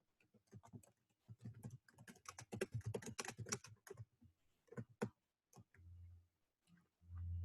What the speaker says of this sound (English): I have to type all the other stuff that comes before it